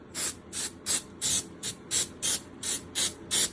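A spray bottle of glue accelerator mists a deck box in ten quick, evenly spaced hissing bursts. The sound is close and crisp, with brief pauses between pumps and no talking.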